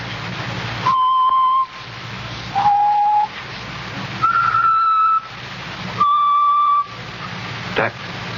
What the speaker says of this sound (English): He's always whistling it.